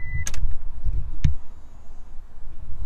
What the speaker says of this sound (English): Yep, fuel pump clicked.